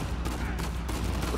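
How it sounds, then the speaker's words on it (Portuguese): Gunfire in the video game Uncharted 4 comes as rapid, repeated bursts of shots in quick succession, loud and dense across the whole moment. "eu não tô nem entendendo de onde estão indo os tiros"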